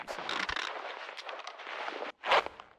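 A flashbang grenade detonating in a tactical shooter game, with a dense burst of crackling noise, a brief drop to silence, then a second short, loud blast close by.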